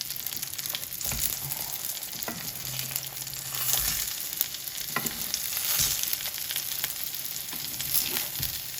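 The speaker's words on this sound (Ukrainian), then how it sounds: "Як помідори підсмажують до золотистої скоринки і можна їх виймати." Battered, breaded tomatoes frying in hot oil until golden, a steady close crackling sizzle with occasional louder pops and bursts, no voices.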